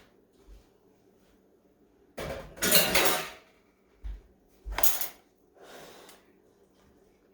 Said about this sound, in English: And just toss this around. Mix it really well.